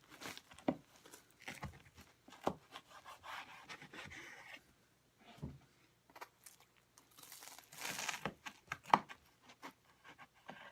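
A knife saws and crunches through a crisp puffed sugar candy in short, scratchy rasping strokes and crackles, close up and fairly quiet, with pauses between cuts.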